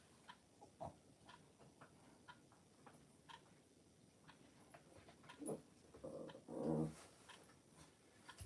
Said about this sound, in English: In case you're wondering what the noise is, I have a wee dog here